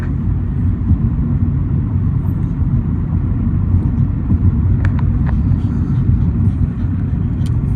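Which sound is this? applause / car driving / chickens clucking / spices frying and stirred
car driving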